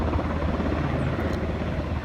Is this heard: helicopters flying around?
yes